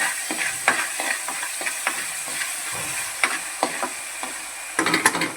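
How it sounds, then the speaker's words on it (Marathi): Ginger-garlic paste stir-fried in a pan while cooking a black peas curry, a soft sizzle under repeated scraping and clacking of a spatula, close up with a burst of sharper stirring at the end. "थोडं आलं लसूणची पेस्ट थोडी हलवून घेऊया"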